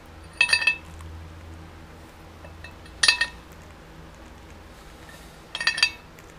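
Small metal hub parts from a 1996 Ford F250 4WD dropped into place, three separate bright clinking rattles spaced a few seconds apart, close and clear over a quiet garage background.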